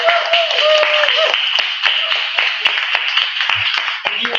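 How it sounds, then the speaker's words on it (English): Audience at an open mic night at the Dragonfly Cafe breaks into sustained applause, with dense clapping and a few cheers running steadily throughout, loud and close. "Let's do a round of applause for our amazing venue"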